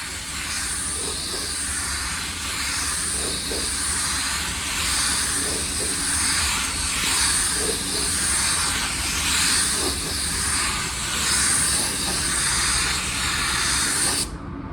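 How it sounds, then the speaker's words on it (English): A spray gun lays down a first coat of clear coat on an automotive blend repair, a loud, steady hiss of atomized paint with slight swells, cutting off abruptly at the end. "All right, we're ready for our first coat of clear."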